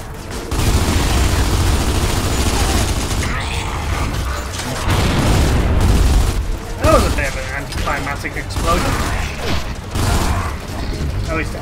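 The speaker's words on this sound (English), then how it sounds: "Explosion." Gears of War 2 co-op firefight with bursts of gunfire and a heavy explosion booming amid mechanical clatter, loud and close, while players talk over the action.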